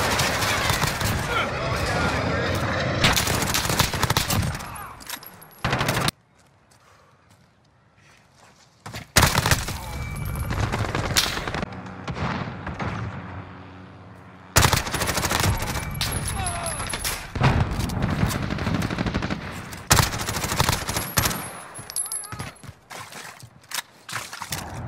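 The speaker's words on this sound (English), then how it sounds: "This is Striker, we're taking some fire." Bursts of automatic gunfire and explosions in Modern Warfare, loud rapid volleys separated by short quiet gaps, with a voice on the radio mixed in.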